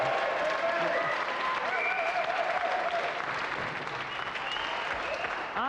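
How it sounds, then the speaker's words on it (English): Studio audience on a video game show applauds the contestants with sustained, even clapping for several seconds, while faint tonal music or voices sit underneath. "give a round of applause again for our loser Sahid and our winner Annabel Croft"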